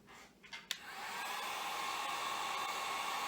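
A heat gun shrinks heat shrink tubing over soldered harness wiring during a Ford 5.0 EFI conversion. It starts after a few faint handling clicks, then blows as a steady airy roar that continues to the end.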